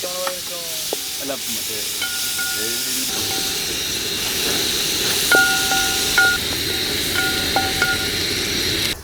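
Onions frying in a pan with green chillies, a loud continuous sizzle and hiss close up, with a few stirring knocks and faint tonal beeps in the background, no talking.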